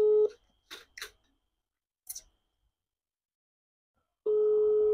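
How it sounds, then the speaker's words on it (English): Telephone ringback tone on a call: a steady electronic tone cuts off, a few faint clicks follow during a long quiet gap, then the same tone returns loud and sustained. "Our phone is ringing."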